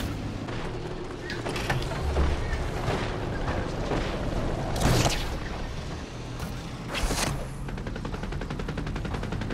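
Fortnite gunfire in a busy battle: dense bursts of shots crackle throughout, with two louder blasts standing out midway, all set against a steady bed of game noise.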